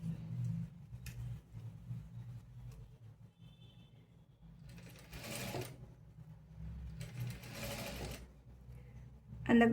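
Sewing machine stitching a three-dart blouse in short bursts of rapid mechanical whirring and ticking, separated by quieter pauses with faint handling noise; fairly soft and close, no talking.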